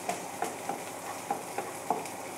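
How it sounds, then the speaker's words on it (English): Onions frying in a pan for a curry, with faint sizzling and a few soft stirring clicks spaced at a steady pace, quiet and close with no talk. "So now allow the onions to roast until it gets that nice caramelized texture to it"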